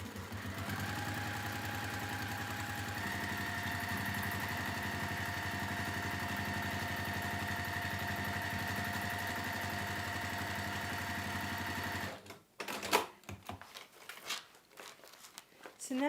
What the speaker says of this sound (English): just going to sew that down in place there